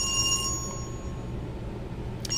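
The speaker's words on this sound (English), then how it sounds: "The ringing echoes down the hallway." A telephone rings in the horror video game Dread Weight, a brief electronic ring at the start that fades and echoes down a hallway, leaving a low, droning ambience.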